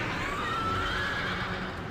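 A horse in World of Warcraft lets out one long, clear neigh over a steady, loud background hum, with no talking.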